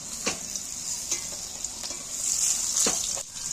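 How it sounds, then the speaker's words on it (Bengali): Pointed gourd (potol) fries in hot oil with a continuous close sizzle, broken by several sharp scraping strokes of a stirring spatula against the pan. "পটলগুলোকে আমি ভালো করে ভেজে নিচ্ছি"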